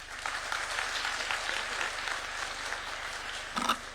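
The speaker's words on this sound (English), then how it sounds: "Another round of applause for Professor Patrick." Steady crowd applause, a dense wash of clapping from many hands that holds at an even level throughout, with a brief louder burst near the end.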